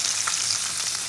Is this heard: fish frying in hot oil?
yes